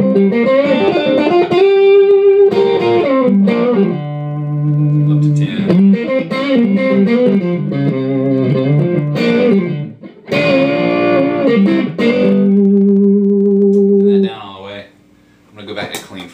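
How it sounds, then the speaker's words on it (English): Electric guitar with distortion on an EMG DG-20 neck pickup plays chords and single-note phrases, loud and sustained, with a brief pause near the end before resuming. "switch on some distortion with the neck pickup"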